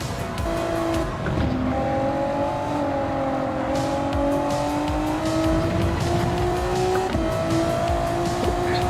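Race car tires squeal in a wavering, intermittent whine at the edge of grip in a Super GT racing video game, loud and constant over the engine's drone.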